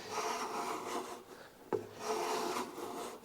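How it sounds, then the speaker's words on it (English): A hand plane working across the grain of a wooden part for a classical guitar, giving repeated rasping strokes up close, with a sharp knock partway through and no talk. "By planing across the grain, you're keeping this flat and not building any wind into it"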